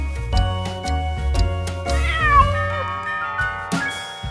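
Animated cat meowing in a Tamil 3D nursery rhyme, several loud, drawn-out meows and a caterwaul over a bouncy musical backing, with no talking.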